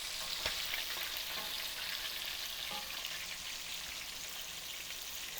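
Chicken wings frying in hot oil give a dense, steady crackling sizzle, close and continuous, with a few sharp pops and the faint clink of turning, and no voices.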